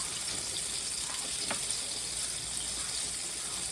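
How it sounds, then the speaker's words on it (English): Hands are rinsed under a kitchen sink tap, a steady moderate rush of running water with a faint splash partway through. "Set this over here in the sink. Rinse my hands off."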